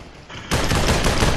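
Gunfire in the VR battle royale Population One breaks out as a sudden loud burst of rapid shots that keeps going without a pause.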